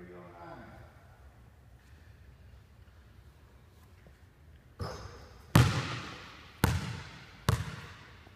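Basketball practice shot that swishes cleanly through the net, followed by several sharp, close ball bounces on a hard court that ring out one after another over faint background hiss.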